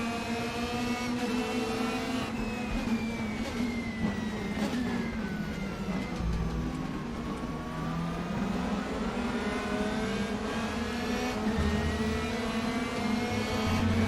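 Mercedes DTM race car engine in RaceRoom, a raw, continuous drone that climbs and falls in pitch as it accelerates and brakes for corners, with short throttle blips on downshifts and no voices.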